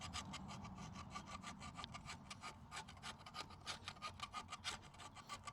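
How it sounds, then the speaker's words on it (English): A chisel scrapes old paint off a wheel rim during a restoration, giving a steady run of close, gritty rasping strokes that quicken and grow sharper toward the end, with no voices. "Never in my life I sanded wheels with a chisel."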